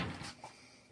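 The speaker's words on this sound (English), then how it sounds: "that's a loud door." A loud cabin door bangs open or shut with a short, sharp knock and a quick rattle, close by and fading fast into quiet room tone.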